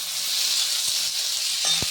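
Red capsicum frying in a pan with tomato, giving a steady close sizzle throughout, with a few brief stirring knocks near the end.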